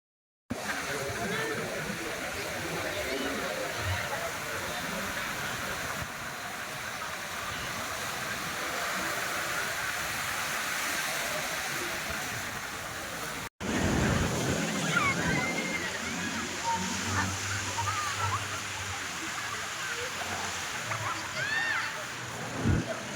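Gentle sea waves wash in at Suryalanka beach in Bapatla, a continuous surf hiss with splashes while children play nearby; voices mingle with the water, and after a brief cut the surf returns closer and rougher.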